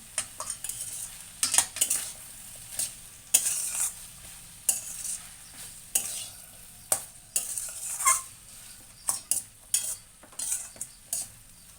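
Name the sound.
stirring salt into frying okra, potato and sweet corn curry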